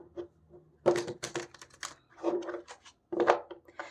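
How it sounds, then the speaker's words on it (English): A deck of tarot cards is shuffled by hand in a series of crisp riffling and tapping bursts, close up, with brief pauses between the handfuls and no talking. "Let me shuffle again."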